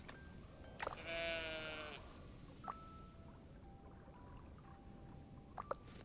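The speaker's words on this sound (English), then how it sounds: "Pet the sheep time." A sheep bleats once in the cozy building game Tiny Glade, a clear wavering cry up close, followed by faint soft game tones and small clicks over a quiet background.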